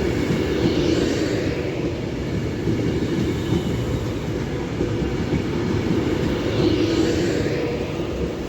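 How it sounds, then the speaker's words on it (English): An Avanti West Coast Class 390 passenger train runs through Stafford on the West Coast Main Line toward London Euston, a close, steady roar of wheels and rushing air holding at even loudness throughout, with no voices. "going past is an Avanti West Coast Class 390 off to London Euston from Glasgow Central"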